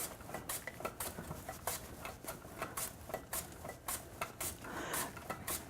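Sweet potato sliced paper thin on a mandoline, a quick run of sharp, evenly spaced scraping clicks as each pass of the vegetable crosses the blade, fairly close with no talk.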